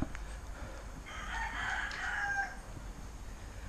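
A rooster crows once in the middle distance in Jamaica, a drawn-out call rising and falling over a quiet outdoor background.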